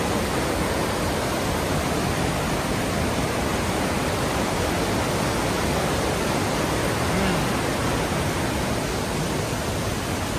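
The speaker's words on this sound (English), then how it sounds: "it's coming right down over the side, and I'm on the side of the waterfall now" A waterfall pours over rocks close by, a loud, steady broadband roar of falling water that fills the whole stretch without a break.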